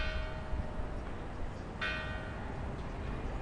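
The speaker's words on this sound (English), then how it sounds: "I walked over here to show you that church over there because the bells were ringing on it" Church bells ring in Udine, Italy, heard from a distance across the town. A sustained, humming tone carries one clear strike midway that rings on over quiet outdoor ambience.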